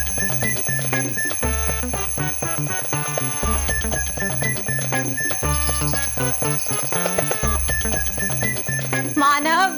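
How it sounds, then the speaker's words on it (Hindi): A loud electronic alarm clock rings alone in repeated insistent bursts of bright tones, set against a dense, steady backdrop, with no talking over it. "ये अलार्म क्लॉक इन लोगों को जगाने के लिए होता है"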